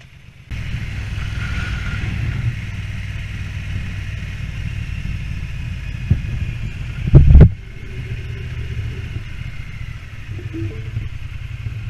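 Triumph Bonneville motorcycle riding near John O'Groats, a steady low engine drone with wind rush heard close throughout, a brief louder clatter midway, no talk.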